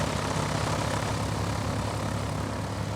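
Twin-engine Piper PA44 Seminole in Microsoft Flight Simulator 2020 running a power check at the stand: a steady, loud propeller and engine drone with a low throbbing hum, continuous and unchanging, no voices over it.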